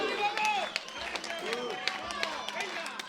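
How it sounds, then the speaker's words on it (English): Crowd noise at a European junior powerlifting championship, a busy roar of cheering and shouting voices with scattered claps, loud and continuous with a commentator talking over it. "Listen to the crowd."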